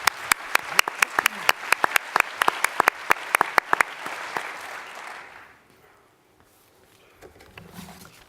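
Audience clapping at a talk on hospices in Liverpool, a dense burst of loud applause for several seconds that thins and fades out around the midpoint, leaving near silence with faint room noise.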